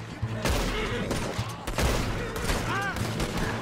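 Gunfire from a Red Dead Redemption 2 train heist crackles in a rapid, uneven volley of sharp cracks and booms over constant background noise, close and loud, with people talking at times.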